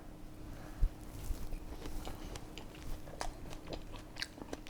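Someone bites into and chews a homemade fruit tart with a crunchy crust, giving faint, soft, irregular crunches up close in a quiet room.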